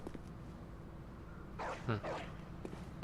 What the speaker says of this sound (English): I heard another dog barking.